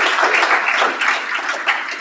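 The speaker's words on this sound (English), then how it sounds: "Let's give them a round of applause." Audience applause at a business meeting, a brief, steady wash of many hands clapping at close range with no pauses.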